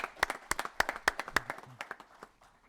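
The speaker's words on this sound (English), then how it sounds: "Let's give her a round of applause." A small group claps at a Georgia House study committee meeting, sparse, distinct hand claps in an uneven rhythm that thins out and fades within a few seconds.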